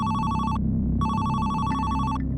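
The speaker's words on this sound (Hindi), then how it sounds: "8 दिसंबर 1972 को पत्रकार ने हमशरी को फोन किया।" A desk telephone rings loudly in two long electronic bursts separated by a short pause, heard alone with no voices.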